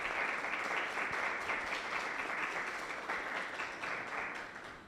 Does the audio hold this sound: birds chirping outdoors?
no